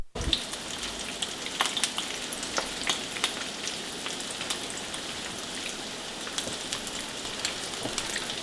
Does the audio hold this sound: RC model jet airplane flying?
no